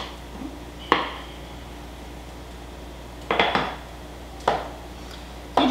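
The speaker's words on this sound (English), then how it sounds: "the potatoes are just a roasted potato that I will cut up a little bit smaller as well" Knife cutting already roasted potatoes into bite-sized pieces on a board, heard as four sharp separated clacks and taps against the surface with quiet pauses between, no speech.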